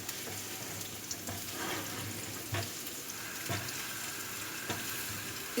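Chopped onions stir-fry in cooking oil with a constant faint crackling sizzle, broken by a few sharp scrapes and taps of a spoon against the pan.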